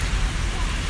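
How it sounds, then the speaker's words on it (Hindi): Heavy rain pours at a bus stop, a dense, steady hiss with no breaks across the short stretch, loud and close. "बहुत बारिश हो रही है"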